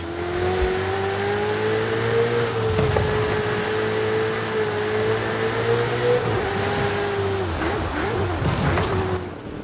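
A car in the racing game Forza Horizon 5 drives with a loud, steady engine drone that climbs and dips in pitch as it revs and shifts, continuous and close throughout, no talk.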